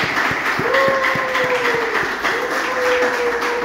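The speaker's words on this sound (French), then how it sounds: "On l'acclame." An audience applauds an honoree at a ceremony, dense loud clapping that carries on steadily throughout with a sustained tone running through it.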